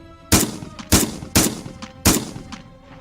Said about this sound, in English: repeated loud bangs are much more likely to be gunfire.